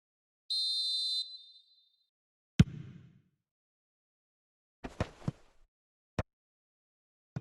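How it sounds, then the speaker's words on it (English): A referee's whistle in the eFootball video game blows once, a single sharp, steady blast lasting about a second, followed by scattered thumps and clicks from the match. "And the whistle's gone, presumably for offside."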